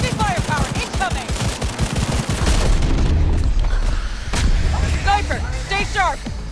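Heavy weapon fire and explosions in a Cyberpunk 2077 PC firefight: rapid bursts of gunfire and booming blasts rumble continuously, with voices speaking over the chaos.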